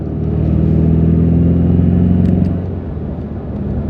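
A 2025 BMW M5 driving in M mode, its engine a deep, steady rumble that swells slightly and then eases off. Close and loud from inside the car, with no talking.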